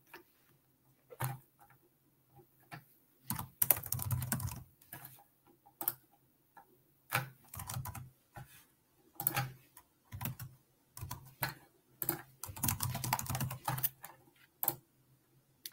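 Fingers tap answers into an online Polish language exercise on a computer keyboard, with quiet, close keystrokes arriving in irregular bursts and short flurries separated by pauses.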